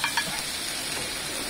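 Garlic sizzles and crackles steadily in hot butter in a pan, a bright, hissing fry heard close up with no talking.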